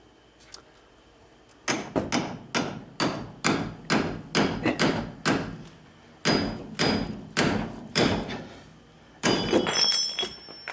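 A hammer strikes a cold chisel wedged into the seized wheel bearing hub of a 2006–09 Pontiac Torrent, about fifteen sharp metallic blows in a steady rhythm with a short pause midway, close and loud.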